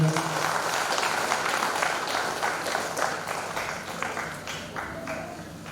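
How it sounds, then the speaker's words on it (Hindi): Seminar attendees break into strong, sustained applause, a broad wash of many hands clapping that gradually softens over a few seconds. "एक बार जोरदार से ताली मारेंगे।"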